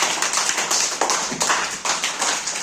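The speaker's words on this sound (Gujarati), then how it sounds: "ચાલો તેના માટે તાળી પાડી દો।" Children clapping for a classroom game winner, a quick run of sharp, fairly close claps in an uneven rhythm, with no talking.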